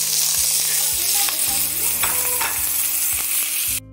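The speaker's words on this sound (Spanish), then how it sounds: "Ponemos en la sartén aceite. Vamos a incorporar nuestras cebollas enteras, nuestros ajos y nuestro puerro congelado." Whole onions, garlic and frozen leek sizzle steadily in hot oil in a frying pan, a loud continuous crackle broken by regular dull knocks of stirring.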